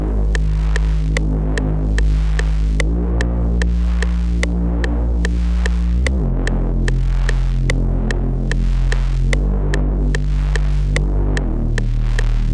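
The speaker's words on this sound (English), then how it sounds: "This is called the Cut Me Real Deep Wobble preset." A rolling wobble bass synth preset in a beat throbs loud and deep, pulsing in a steady rhythm with sharp ticking hits. It shifts pitch every few seconds, and nobody speaks.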